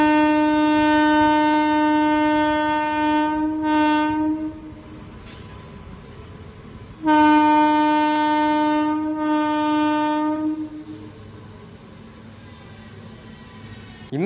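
Played back from a video about the Odisha train accident, a train horn blares in two long, loud blasts separated by a short gap, with rumbling rail noise underneath.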